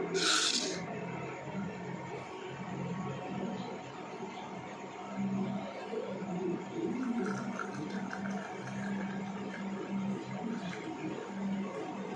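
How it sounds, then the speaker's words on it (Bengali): Boiled tea strained through a sieve in a home kitchen, making a soft, steady liquid trickle. It is quiet and continuous, with a bright clink at the start. "চলো চাটা এখন ছেঁকে নিই।"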